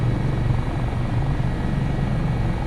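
HH-65 Dolphin Coast Guard helicopter flying in Microsoft Flight Simulator 2024 over Valdez, Alaska, a loud steady rotor and turbine drone with a low pulsing thrum, continuous and close, with no talk.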